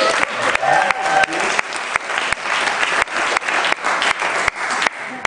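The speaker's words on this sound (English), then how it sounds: "Let's have a round of applause for the bands." Audience applause for the bands at a Forest Hill Community Church carol service attempting a Guinness World Record: loud, dense clapping from a large crowd filling the whole stretch, with a few voices calling out within it.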